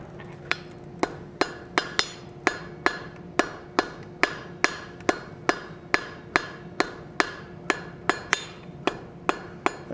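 Steady, evenly spaced hammer blows ring out on a blacksmith's anvil as hot steel is forged into rose shapes, each strike sharp and metallic with a bright ringing tail, close and loud, about two per second with no talk.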